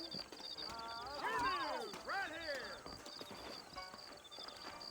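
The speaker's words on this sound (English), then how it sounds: "You ain't gonna find sturdier horses than these in all of New Ulster." Horses in the Red Dead Redemption video game, heard alongside game dialogue with someone speaking throughout, and a horse whinny that rises and falls in the middle.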